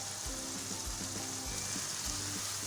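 Beef and green chilies fry in a pan, a soft steady sizzle with a few light stirring knocks in a quiet, close setting, no talking.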